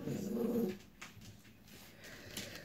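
A dog growls low and close at the start, then gives way to quieter rustling and faint snuffling in a house with five dogs.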